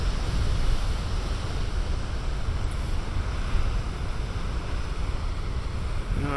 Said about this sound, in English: I don't think the waves are all that shabby today, boy.